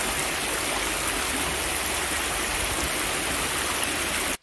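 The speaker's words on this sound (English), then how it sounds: "gone back the next day and recorded the sound of the brook" A flowing brook recorded outdoors, a steady, dense rush and gurgle of water that stays loud and even throughout before cutting off abruptly at the end.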